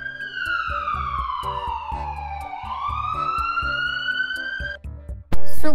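A neonatal ambulance siren sounds loud and near in one long sweeping wail that falls and then climbs again, over a repeating low pulse, cut off by a sudden loud burst at the end.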